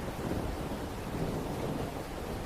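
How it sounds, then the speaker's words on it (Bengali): Steady heavy rain and wind fill the scene with a low rumble of thunder in a Bengali ghost story, a dense continuous wash at moderate level with no voices. "দূরে কোনো অট্টালিকার মাথায় যেন বাজ পড়ল। বৃষ্টি ও বাতাস মেতে উঠেছে।"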